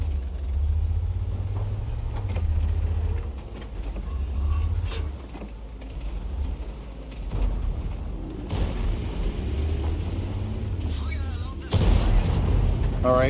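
King Tiger tank in World of Tanks, with heavy engine rumble throughout and booming cannon shots, the loudest blast near the end. Someone talks over the game sound.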